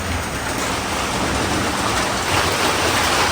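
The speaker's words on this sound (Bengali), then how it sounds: "বৃষ্টি তো, বাইরে তো হাঁটতে যাইতে পারবা না" Steady, dense rain pours outside, a loud unbroken wash of noise with no pauses and no voices.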